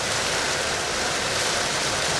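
Heavy, relentless rain pours down as a dense, even roar of broadband hiss, loud and unbroken throughout.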